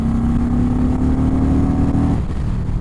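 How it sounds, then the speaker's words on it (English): An Indian Sport Chief cruiser motorcycle engine revs loud and close in sport mode, holding a steady high drone for about two seconds before the revs drop away. "It just puts a giant smile on my face to rev this thing out."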